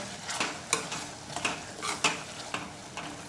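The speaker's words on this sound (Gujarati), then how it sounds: "ફરી આપણે બધું સારી રીતે મિક્સ કરી લઈએ" Ridge gourd is stirred with ginger-chili paste in a pan, a soft sizzle under repeated scraping strokes of a spoon against metal, close and steady.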